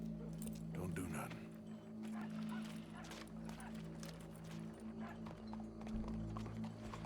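Horse hooves clop steadily in Red Dead Redemption 2, mixed with a low droning game soundscape and a snort, while characters talk over the scene.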